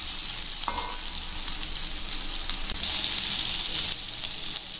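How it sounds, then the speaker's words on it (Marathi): Stuffed okra (bharli bhendi) fries uncovered over a low gas flame, giving off a soft, even hiss of sizzling oil close by, with a few light clicks of stirring and no talking. "आता मी याला 5 ते 10 मिनिट असंच फ्राय होऊ देणार आहे बारीक गॅसवरती."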